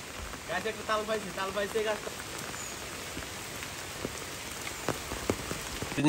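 Steady rain patters on a village road with scattered close drips, while a voice speaks briefly at the start.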